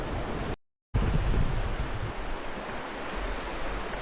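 The Malheur River near flood stage rushing fast at a kayak put-in, a broad, steady roar of moving water mixed with wind buffeting the microphone, broken by a brief dropout.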